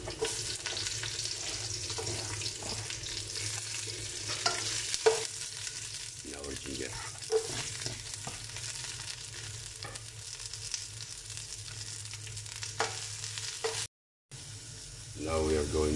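Garlic and onion frying in a pan for batchoy, a steady loud sizzle with stirring scrapes throughout, a brief dropout near the end, and some talk over it.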